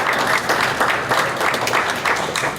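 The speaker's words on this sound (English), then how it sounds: "Let's give them a big round of applause." An audience applauding at a Pensacola Heritage Foundation painting gifting, many hands clapping in a brief, full burst that carries on evenly throughout.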